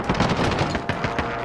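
Rapid bursts of automatic gunfire in a first-person shooter game, loud and dense, with sharp repeated cracks and booms packed across the whole moment and no talk over them.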